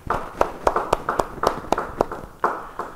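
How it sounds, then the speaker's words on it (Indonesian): A church congregation clapping hands in praise during a Bible study sermon, a steady rhythm of about a dozen sharp claps over a few seconds, fairly close and clear, with no voices. "Yang percaya, beri tepuk tangan buat Tuhan."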